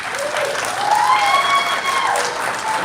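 Sustained burst of audience applause at a Greenville County Council meeting, dense and steady throughout, with faint voices mixed in.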